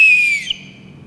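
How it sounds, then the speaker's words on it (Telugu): A small whistle, sounded by air passing through its holes during a school science lesson, gives one bright, sustained blast close by that tapers off after about half a second. "గాలి పోవడం వల్ల ఈ పిక్కిలి అనేది శబ్దం చేస్తుంది"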